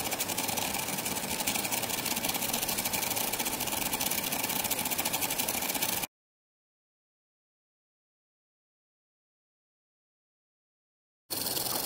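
A small model E.T. ion drive powered by pure DC, giving a steady buzzing, motor-like hum for about six seconds, then cutting to silence before switching back on near the end.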